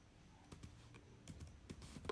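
Quiet clicking of a computer keyboard while typing Python code, scattered soft keystrokes in small irregular clusters, faint and close with no voice.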